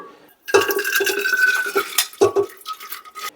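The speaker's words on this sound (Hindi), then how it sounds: "रस बनाने के लिए सबसे पहले हम पिछली रात से भिगोई हुई दाल को प्रेशर कुकर में डालेंगे।" Soaked dal tipped into a pressure cooker for Kumaoni ras, a sudden clattering, scraping rush of wet lentils against the metal pot, with a second short burst of knocks near the end.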